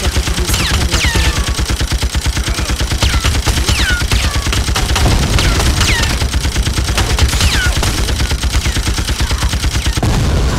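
Heavy automatic gunfire from the BloodRayne 2 game on PC roars in a loud, unbroken burst of rapid shots, with sharp higher effects flicking over the top.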